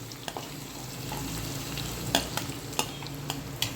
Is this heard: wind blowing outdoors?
no